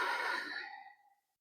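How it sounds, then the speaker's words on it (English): A single long, breathy exhale during a yoga flow, soft and close, fading out gradually over about a second. "breathe out."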